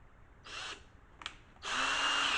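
A drill fitted with a spot weld cutter bit cuts into car body metal in three bursts, two short whines and then a longer sustained high grind, close and loud with quiet gaps between.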